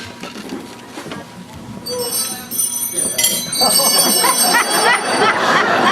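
A small hand bell rings repeatedly at an anniversary celebration for a priest, bright jangling strikes building up over room noise and crowd murmur.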